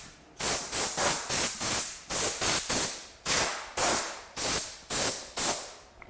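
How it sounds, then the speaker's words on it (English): Compressed-air bursts blowing sanding dust off milk-painted furniture between coats, about a dozen short sharp hissing blasts in a quick, fairly even rhythm, loud and close with brief gaps between. "then we just need to blow off the dust and get ready for our second coat"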